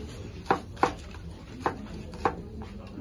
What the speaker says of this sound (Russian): нарезаем овощи